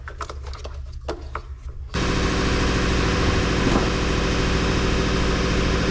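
Air compressor kicking on during work on a 2018 GMC Acadia, starting abruptly after a quieter stretch with faint clatter, then running as a loud, steady mechanical drone to the end.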